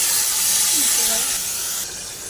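Snake gourd goes into a pan of frying shrimp and coconut, giving a loud continuous hiss and sizzle that eases slightly toward the end.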